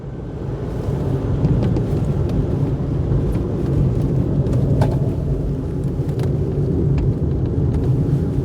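A Proton car's engine runs during a hill climb as a loud, close, continuous rumble with scattered faint clicks and rattles throughout.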